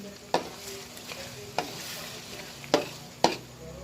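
Creamy, cheesy spaghetti sauce stirred in a pan, a low sizzle broken by four or five distinct clacks of a spoon against the pan's side, close and fairly crisp.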